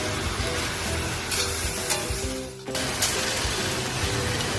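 Fresh green peas sizzle and fry in a hot pan with vegetables, a steady crackling hiss running throughout with brief stirring scrapes and one short dip in level.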